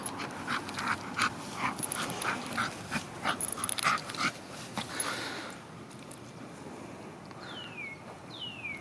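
A dog panting and sniffing close by in short bursts, then quieter outdoor ambience with a few high chirps near the end.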